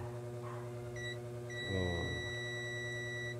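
A multimeter's continuity buzzer sounds as its probes test an induction cooker, giving a brief beep and then a steady, continuous high tone over a low electrical hum.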